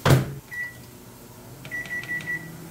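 A microwave oven heating a portion of cooked rice: a close thud like the door shutting, then a single sustained beep, a pause, and a quick run of short electronic beeps, all fairly quiet.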